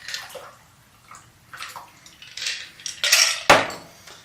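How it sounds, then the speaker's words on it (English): Cocktail being strained from a shaker or mixing glass into a martini glass for a Tuxedo No. 2, with clinking ice, metal and glass clatter and a pouring splash, ending in a sharp clink, close and fairly loud without speech. "And I'm going to strain it into my martini glass."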